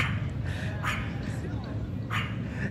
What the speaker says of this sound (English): See, the dog is barking at the squirrel over there.